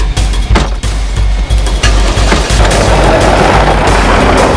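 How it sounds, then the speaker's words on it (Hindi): A rapid series of gunshots rings out nearby, sharp repeated bangs in quick succession, with no talking over them, set in an outdoor field in a Crime Patrol crime drama scene. "आलोक ने सुनील को गोली क्यों मार दी।"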